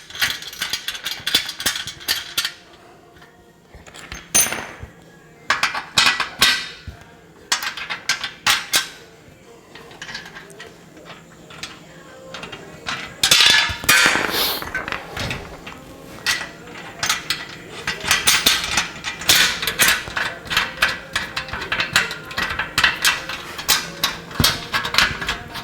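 Tightening a nut on a Consew 2206 K sewing machine leg frame: irregular bursts of ratchet clicks and metallic clinks with pauses between, close by, sometimes with a voice in the background.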